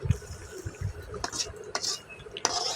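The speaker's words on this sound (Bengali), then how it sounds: "দিয়ে একটু লাড়া দিন।" Rohu fish pieces being stirred with ash gourd in a large wok, a utensil scraping and clinking against the metal in a few irregular strokes, close and moderately loud, with no talking.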